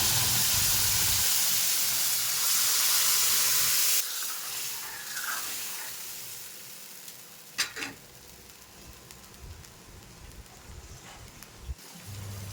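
Mung dal tipped into a hot pan for a fish-head mung dal, giving a loud rush of sizzling and hissing that eases after a few seconds, followed by quieter frying with a couple of brief clatters.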